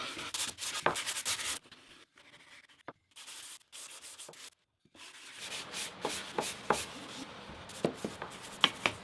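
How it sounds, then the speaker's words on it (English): Edges of a small wooden stand for a phone or tablet being hand sanded smooth and round, giving steady close rasping strokes in bursts with short pauses between them, with no voices. "We're going to hand sand all the rest of the edges."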